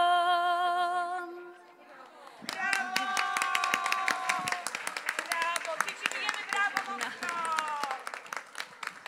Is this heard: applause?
yes